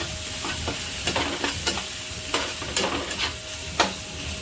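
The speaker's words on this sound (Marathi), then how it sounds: "आता याला मस्त मिक्स करायचं" A spoon stirs and mixes stale puri chivda with salt and homemade thecha in a pan, giving repeated scraping, rustling strokes at an irregular rhythm over a soft sizzle, close and clear with no talk.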